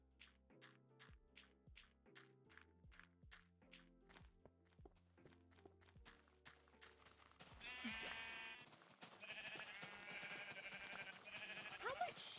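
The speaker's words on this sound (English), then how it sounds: "Oh, that is a lot of sheep in the storage area." Crowd of Minecraft sheep bleating over and over in a storage area, overlapping calls with game footstep thunks, then denser clamor and scraping noise later on.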